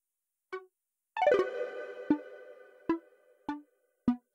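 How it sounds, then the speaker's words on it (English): Oscillator A of a synth plays alone with effects switched off: short plucked tones with bright harmonic stacks, a quick rising arpeggiated run in the middle, then evenly spaced single notes, clear and dry with no voice. "So this is what oscillator A sounds like."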